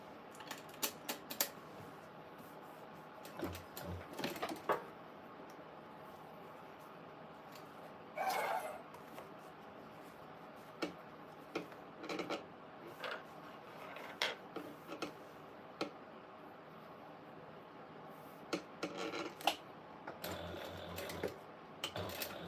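Domestic sewing machine running in short, intermittent bursts of rapid mechanical ticking and whirring, with quiet pauses between stitching runs as the bobbin is checked; close and moderately soft, no talk.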